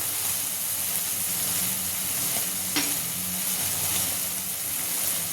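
Fried rice with masala being stirred in a hot pan, a steady close sizzle with scraping strokes of the spoon running under it, no voices.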